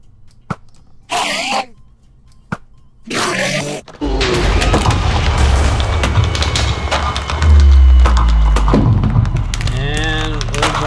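Weapon fire and impacts ring out as the boss's eyes are shot out in the Time Smash Mapmakers video game, beginning with a few short bursts and then becoming a dense, loud barrage with booming low thuds.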